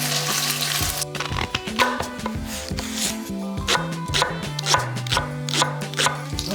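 Pot roast meat searing in smoking-hot olive oil for a three-day pot roast gives a steady, close sizzle broken by sharp knocks and scrapes. Tonal sounds also run under it, with no talking.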